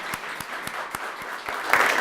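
A small audience at a Poetry Out Loud 2015 competition gives brief, scattered applause, individual claps spaced out at first and then thickening toward the end.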